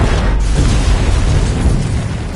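A bomb detonating in a corridor during an action film, a loud, deep, rumbling blast with a heavy low-end roar sustained for a couple of seconds, close and without talk.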